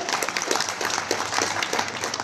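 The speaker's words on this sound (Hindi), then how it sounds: "तालियां होती रहे लगातार आज के इस ऐतिहासिक दिवस पर।" Steady, dense applause from a crowd at an official ceremony where appointment letters for dentists and medical officers are handed over by Jharkhand's Chief Minister, continuous clapping filling the whole stretch.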